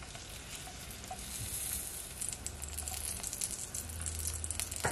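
Curry powder and garlic fry in a hot pan for Jamaican curry turkey necks, giving a steady, bright sizzle with crackling pops that builds slightly and runs alone without talk.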